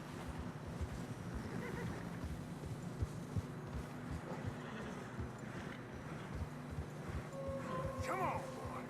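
Horses plod through fresh snow in the Red Dead Redemption 2 video game, with steady muffled hoofbeats, snorts and a short whinny near the end, under a continuous low wind.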